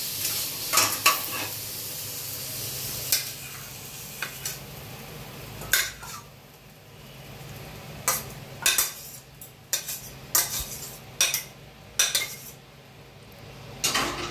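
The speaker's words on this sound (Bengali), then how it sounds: "এটা আমি কিছুক্ষণ একটু সর্ষের তেলে ভেজে নিচ্ছি।" Marinated chicken frying in mustard oil in a pan, a quiet continuous sizzle punctuated by repeated sharp scrapes and clanks of a spoon stirring against the metal pan.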